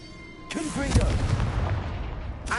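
The Confringo blasting spell in Hogwarts Legacy erupts into a sustained, rumbling fiery blast that rolls on for about two seconds before a fresh burst, loud and close, with a brief voiced call at its onset.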